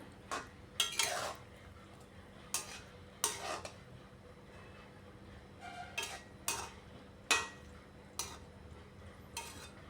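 Young eggplants frying in a pan while being flipped and stirred, giving sharp utensil scrapes and clinks against the pan in irregular bursts over a quiet, low background sizzle.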